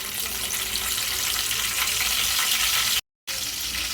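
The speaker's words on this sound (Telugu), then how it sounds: "కొద్దిగా జీలకర్ర వేసుకుందామండి. కరివేపాకు, పచ్చిమిరపకాయలండి." Cumin seeds, curry leaves and green chillies fry in about four spoons of oil for an egg curry, a loud, dense, continuous sizzle close up, broken once by a brief total dropout near the end, with no voices.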